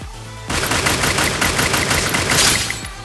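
Rapid automatic gunfire in a ranked solo-versus-squad online shooter game, with bullets punching through walls: a loud, dense, continuous burst of shots that starts abruptly and runs for about two and a half seconds, with no talking.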